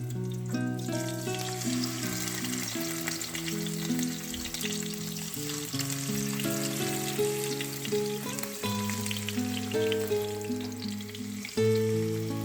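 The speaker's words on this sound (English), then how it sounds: "Once the oil is hot, carefully place the fish pieces into the pan." Fish pieces frying in hot oil in a pan, likely olive oil, give a steady, close sizzle that runs throughout beneath background music.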